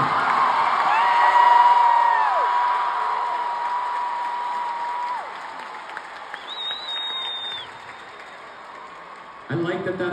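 Concert crowd at a show applauding and cheering loudly, a dense wash of clapping with whoops and whistles that swells early, then gradually thins and fades, with a fresh burst near the end.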